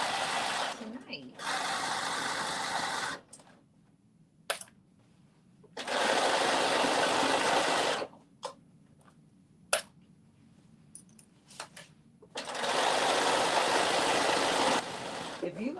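A sewing machine back stitching a New Look 6741 garment runs in three close bursts of fast, whirring stitching, each a couple of seconds long, separated by quieter gaps with small clicks and handling noises.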